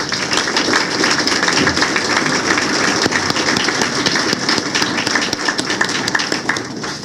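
Sustained applause from an audience at a formal recognition ceremony honoring don Rómulo Torres, a dense steady wash of many hands clapping that continues unbroken and fairly loud throughout.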